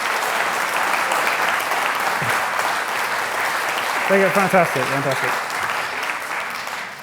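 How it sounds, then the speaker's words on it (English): Sustained audience applause honouring young winners at the Lichfield Live Community Awards fills the room steadily, with a voice speaking briefly over it near the middle. "Let's have another round of applause."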